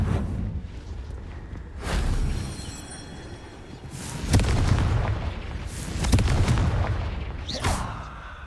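Confringo blasting-spell explosions in the Hogwarts Legacy video game, several heavy booms with sharp cracks and rumbling tails arriving a second or two apart over a continuous game background.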